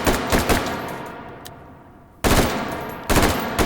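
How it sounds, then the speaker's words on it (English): A 3-round burst shotgun fired in a VR shooting game, heard as loud sharp bursts of rapid shots in three separate groups, with decaying echo between them and no talk. "So this is a 3-round burst variant."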